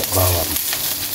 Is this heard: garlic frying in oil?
yes